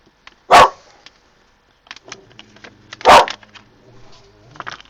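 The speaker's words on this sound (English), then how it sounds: "Absolutely no idea why he's barking." A puppy barks twice, loud and close, with sharp single barks a few seconds apart and light tapping and rustling from art supplies on a table in between.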